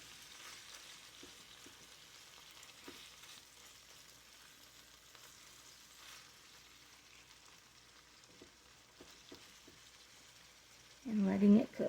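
Ground meat sizzles quietly in a skillet with kosher salt while being mashed down, a soft continuous frying crackle with faint scraping taps, then a brief louder burst of voice at the end.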